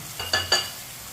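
Large-cut chicken pieces fry in a pan, a close hiss under two quick scraping stirs in short succession, then a steady low sizzle.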